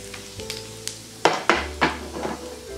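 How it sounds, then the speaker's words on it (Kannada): Mustard seeds and cumin hitting hot oil and ghee in a pan, giving a few sharp sizzling bursts and crackles up close, alongside light clinks of a spoon against the pot, with no voices. "ಒಂದ್ಸರಿ ಎಣ್ಣೆ ಮತ್ತು ತುಪ್ಪ ಕಾದ್ಮೇಲೆ ಸ್ವಲ್ಪ ಸಾಸಿವೆ, ಒಂದು ದೊಡ್ಡ ಸ್ಪೂನಷ್ಟು ಜೀರಿಗೆ ಹಾಕ್ಕೊಳ್ಳಿ"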